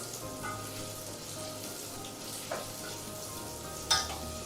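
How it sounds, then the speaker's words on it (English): Meat pieces frying in ghee for biryani, a steady low sizzle running throughout with a couple of brief louder spits and stirs near the end. "We are going to add this to the ghee and cook it in this"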